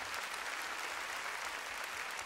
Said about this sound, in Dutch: Geef hem maar een applaus hier.